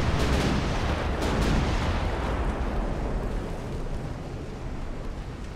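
Heavy naval gunfire from a warship's secondary batteries in Ultimate Admiral: Dreadnoughts, an 1890s-era Italian fleet engaging a destroyer. Dense, loud rumbling booms run together throughout, with several sharper reports early on and a slowly fading roar.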